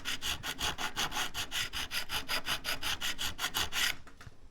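A Chinese-made diamond fret crowning file working a guitar fret: rapid, even back-and-forth rasping strokes, about five per second, close and bright, stopping abruptly near the end, with no talking.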